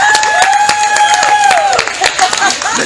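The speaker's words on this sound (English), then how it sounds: "I totally deserved only half the applause." Applause at the IPMA Music Awards 2019 ceremony, dense crowd clapping with a whistle or cheer tone above it, steady and fairly close throughout.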